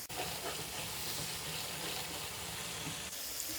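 Spice masala and yogurt frying in a karahi for a spicy potato finger dish, giving a steady, dense sizzle that stays loud and even throughout, with no voices.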